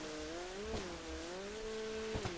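A motorcycle engine drones steadily in a mafia rescue mission of a video game, its pitch dipping and rising as the throttle shifts, with a couple of brief knocks.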